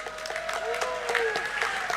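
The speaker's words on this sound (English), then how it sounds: "let us give a round of applause for Arunachal Pradesh" Steady crowd applause rings out for Arunachal Pradesh at the closing ceremony of the North East Games in Nagaland, a continuous wash of clapping with an amplified voice talking over it.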